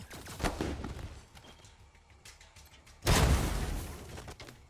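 Pistol shots from Wasteland 3 crack out in a few quick bursts early on, followed by a heavier loud blast after a lull that trails off.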